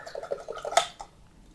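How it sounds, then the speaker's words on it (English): An oil-paint brush is swished and dabbed in turpentine, a quick run of small wet sloshing taps ending in one sharper splashy knock, close and brief. "Just give that brush a quick wash out with the terps."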